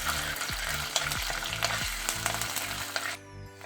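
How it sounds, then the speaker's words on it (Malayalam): Ginger-garlic paste sizzling loudly in a hot pan for a chicken dish, with a steady frying hiss and repeated scrapes of a spoon stirring it. "ഇത് നമുക്കൊന്ന് വഴറ്റി കൊടുക്കാം."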